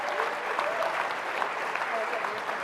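Audience applause at a talk on Congress and anti-corruption legislation: dense, continuous clapping from a large room, steady and moderately loud without clear peaks.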